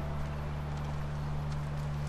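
A horse in The Last of Us clip-clops along in a steady, rapid hoof rhythm over a constant low hum, close and continuous for a couple of seconds with no talking.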